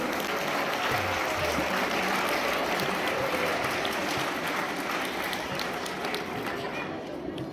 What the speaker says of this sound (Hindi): Please give him a big hand of applause.